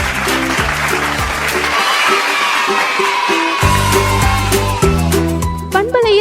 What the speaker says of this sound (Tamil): குட்டீஸுக்கு ஒரு கைத்தட்டல்